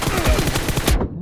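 Rapid automatic gunfire from the mobile battle royale game PUBG Mobile rattles loud and close in a fast burst of about a dozen shots that cuts off abruptly.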